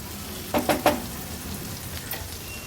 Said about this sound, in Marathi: कांदा थोडासा परतून घेते